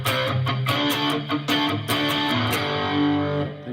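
Distorted electric guitar through the original Plexi amp model on a Headrush effects unit, loud chugging chords with bright, ringing harmonics and rhythmic stabs, continuous and alone without any voice.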